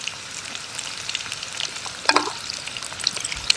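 Popcorn chicken pieces frying in hot oil for a crunchy homemade recipe, a close, steady bubbling sizzle with a brief burst of crackling partway through and a few light stirring clinks, no voices.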